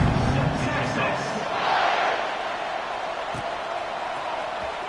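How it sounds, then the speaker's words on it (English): Stadium crowd in an NCAA football video game, a broad steady roar of cheering that swells briefly and then holds at a sustained level, with a commentator talking over it. "this crowd is feeling themselves after that last drive"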